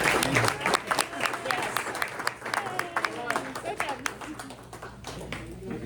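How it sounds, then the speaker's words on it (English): Audience at a press luncheon applauds in a sustained standing ovation, dense clapping from many people in a room, with scattered voices and cheers mixed in throughout. "if we could all give him another round of applause, standing ovation"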